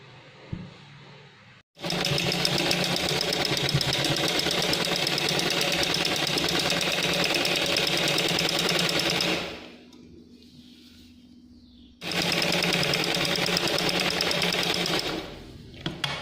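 A sewing machine stitches the sides of a homemade fitted elastic bedsheet in two long, steady mechanical runs, with a short quiet pause between them.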